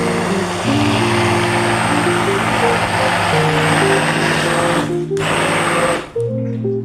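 An electric mixer whirs loudly and steadily as it beats a batter of yogurt and three eggs, its motor pitch shifting a few times before cutting out briefly near the end.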